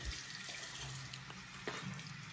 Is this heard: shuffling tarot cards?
no